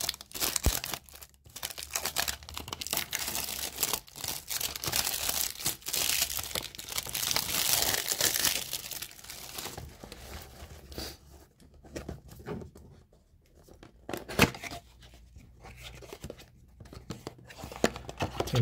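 Packaging of an EZVIZ 1080p camera being unwrapped, with bursts of crinkling plastic, tearing and rustling close by, alternating with brief quieter pauses.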